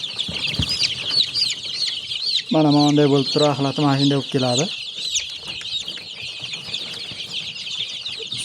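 Sick chicks with loose droppings peep continuously in a high-pitched chorus close by, while someone speaks briefly over them partway through.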